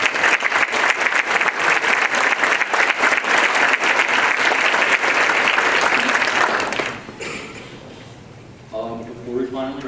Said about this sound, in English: If you could stand up and give her a round of applause.